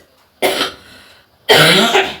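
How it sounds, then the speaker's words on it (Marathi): Two separate coughs from a person who is unwell, close and fairly loud, with a short pause between them and no talking. "जरा तब्येत बरी नाहीये त्यामुळे मध्ये मध्ये खोकला येतोय"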